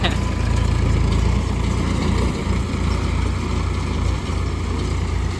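A Solis 4515 tractor drives a hay baler in a field, its engine droning steadily and loudly up close with a continuous low rumble and no pauses.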